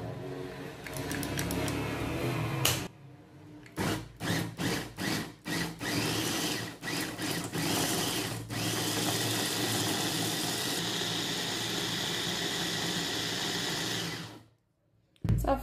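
Electric chopper fitted with its nut blade grinding nuts for a homemade mix, a loud continuous motor whir broken by several short pulses and then a long steady run before stopping abruptly.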